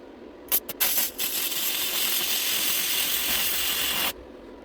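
An Andeli MIG 160 welder arc turned up to higher power crackles and hisses as short bursts that merge into one sustained, harsh, close sputter lasting a few seconds before cutting off.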